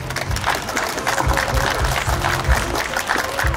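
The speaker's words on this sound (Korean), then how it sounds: "뜨거운 박수 부탁드리겠습니다" Audience applause at the opening ceremony of a biennale at a cultural arts center in Gimhae, a steady wash of many hands clapping that holds at an even loudness for a few seconds.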